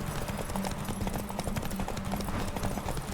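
A horse gallops at full speed in The Witcher 3, steady rapid hoofbeats pounding close and loud with a driving rhythm.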